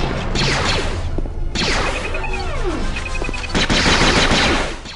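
Gun turrets in the Star Wars Jedi Outcast video game fire loud, rapid bursts of automatic gunfire, with whooshing and crashing impacts mixed in and no talking.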